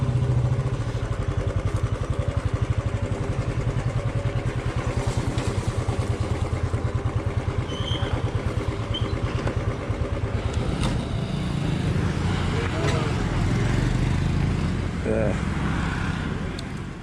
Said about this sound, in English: So many motorcycles today.